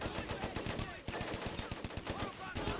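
Machine-gun fire from the Combat Mission: Barbarossa to Berlin video game rattles in dense, continuous rapid bursts, loud and crowded with battle noise throughout.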